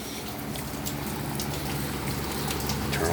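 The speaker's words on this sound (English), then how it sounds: "you can hear it's raining out" Steady rain falling outside, a dense continuous patter with a few louder drips, heard from indoors over a low fan hum.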